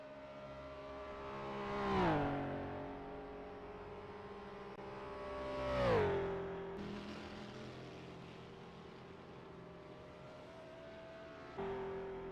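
Racing cars on a circuit, one slipstreaming closely behind another, sweep past in two loud engine passes with falling pitch, then settle into a steady distant drone, with no talk over them.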